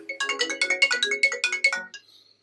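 A phone rings with a quick melodic ringtone of rapid electronic tones repeated in a short burst for about two seconds, clear and close, then stops abruptly.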